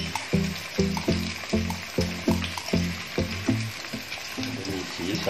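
Tamarind chili paste with fresh bird's eye chilies is stir-fried in a pan. It makes a steady sizzle, with a rhythmic series of scraping spatula strokes roughly every half second and faint background noise.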